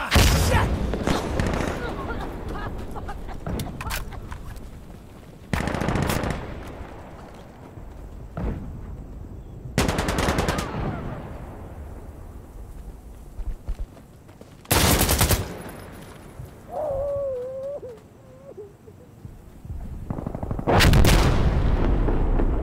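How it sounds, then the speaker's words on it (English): Artillery barrage in the game Insurgency: Sandstorm, with heavy shell blasts landing every few seconds, loud and close, amid rumbling debris and scattered gunfire, with voices talking in between. "Barrage complete."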